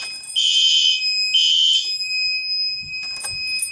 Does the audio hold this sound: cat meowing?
no